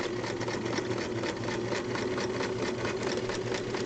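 A sewing machine runs steadily at close range while back stitching a seam, a continuous even whir with rapid rhythmic needle pulses and no pauses or talking.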